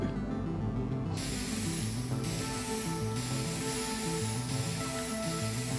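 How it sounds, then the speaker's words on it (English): Bug spray fired as a weapon in the video game Stranger Things 3, a steady loud hissing spray that runs continuously over game music. "I like his facial expression when he is shooting the bug spray thing."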